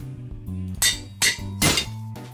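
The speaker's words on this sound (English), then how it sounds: "Oh, anvil broke." An anvil breaks in Minecraft, heard as three sharp metallic clanks at an even rhythm over game background music and tones.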